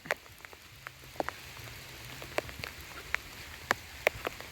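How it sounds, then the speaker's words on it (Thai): Rain falls onto surfaces outdoors, a steady patter under scattered louder individual drops tapping close by at irregular intervals. "ฝนมาอีกแล้ว"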